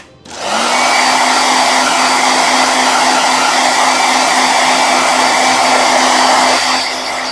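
A hair dryer switches on and blows loudly and steadily with a constant whine, then cuts off near the end.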